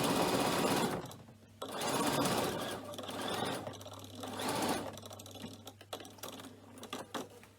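A sewing machine stitches the lining of a cork messenger bag in several close, loud bursts of fast rhythmic whirring, broken by short pauses and a few faint handling clicks.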